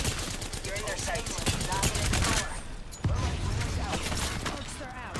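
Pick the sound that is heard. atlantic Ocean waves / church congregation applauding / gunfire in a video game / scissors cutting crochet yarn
gunfire in a video game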